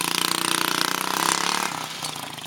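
A quad bike engine close by, buzzing loudly with a rapid pulsing rhythm under the throttle before the revs drop away toward idle.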